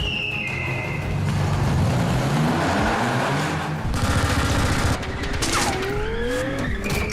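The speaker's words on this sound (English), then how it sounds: "he's being shot at by a machine gun and shot at by these grenade launchers" Rapid machine gun fire crackles through a staged car stunt for a Fast & Furious film involving Statham's character, dense bursts mixed with skidding tires and engine roar, loud and continuous throughout.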